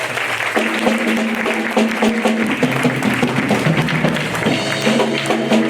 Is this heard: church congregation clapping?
yes